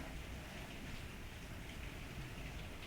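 Steady rain falls outside on a rainy day, an even, soft hiss of drops with no breaks, heard alone at low level.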